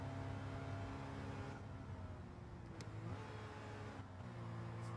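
A Suzuki Cappuccino kei car engine in Gran Turismo 7 revs hard and steadily, a constant buzzing drone that dips briefly between gear changes, heard alone without talk.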